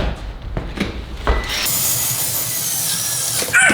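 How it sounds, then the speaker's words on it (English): A power drill boring into a concrete wall: a few knocks and short bursts, then a loud continuous high-pitched whine held for about two seconds before stopping. "Trying to drill into concrete walls is a lot harder than we thought"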